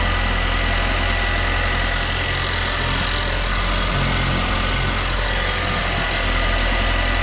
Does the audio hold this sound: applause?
no